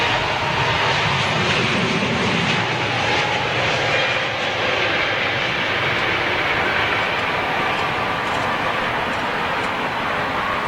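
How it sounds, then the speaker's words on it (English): High-bypass turbofan airliner passing at Heathrow Airport, a steady, broad, fairly muted roar and rush of air holding evenly for about ten seconds with no talk. "You can hear how silent these engines are."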